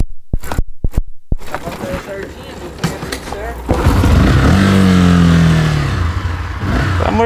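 A motorcycle engine sputters, then revs up loudly and holds a rising, droning tone, with voices talking over it.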